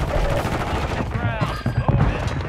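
Rapid bursts of automatic gunfire in a first-person shooter video game, dense and loud, with scattered impacts and game noise over a continuous rattle.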